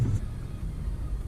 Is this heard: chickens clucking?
no